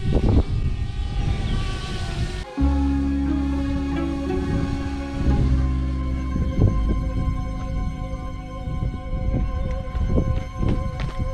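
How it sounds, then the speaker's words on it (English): A small drone descends to land in strong wind beside a centuries-old bridge in a French village, its rotors giving a steady tonal whine that shifts pitch as it comes down, with wind buffeting and thumps close by. "The most difficult part is getting the drone down because there's a lot of wind and the space here is very narrow."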